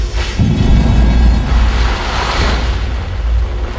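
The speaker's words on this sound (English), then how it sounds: "Pressurized gas creates an explosion that ejects the ash." A pressurized gas blast ejects real Mount Vesuvius volcanic ash from a cylinder in a lab eruption experiment: a sudden loud boom, then a sustained low rumbling roar.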